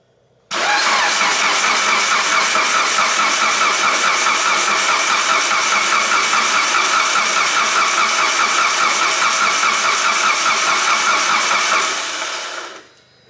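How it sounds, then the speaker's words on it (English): A Mitsubishi EVO 8 engine on its first start-up attempt cranks and roars to life, holding a loud, steady, close running drone for about twelve seconds before cutting off. "this is gonna be the first attempt at starting the EVO"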